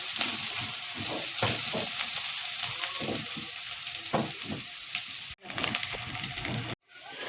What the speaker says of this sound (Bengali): পেঁয়াজটাকেও আমি একটু লালচে লালচে ভাগ করে ভেজে নেব।